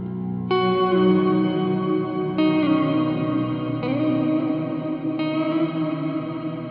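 Sustained guitar chords through a JHS 3-Series Octave Reverb pedal, soaked in heavy reverb with long decay, each strum blooming into a washy tail that overlaps the next, with four restrikes and no talking.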